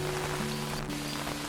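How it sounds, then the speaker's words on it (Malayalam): Heavy rain pours steadily over Kumarakom village in Kerala, a dense, continuous hiss of drops on surfaces with a faint low hum beneath and no voices. "അപ്പോഴാണ് കൂട്ടിനായി നല്ല കനത്ത മഴ എത്തിയത്"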